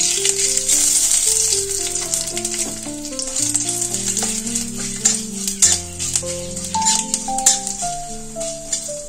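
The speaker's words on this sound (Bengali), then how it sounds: "তেলের মধ্যে দেবো একটা ছোট শুকনো লঙ্কা, একটা তেজপাতা, আর দেবো 5 ফোড়ন" Hot oil sizzles loudly around a tempering of one dried chili, a bay leaf and Bengali five-spice, a dense crackle throughout, with music playing over it and occasional spoon clinks.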